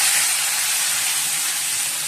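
Onions frying in a pan during home cooking, a steady, close, bright sizzle with a continuous hiss and no talk.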